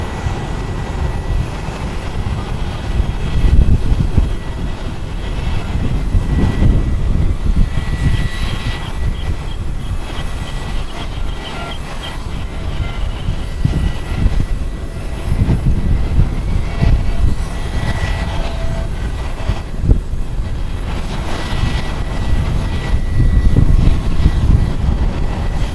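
Aircraft engines roar steadily at Tokyo Haneda Airport, a loud continuous rumble of jet noise that swells and eases slightly, with no voices over it.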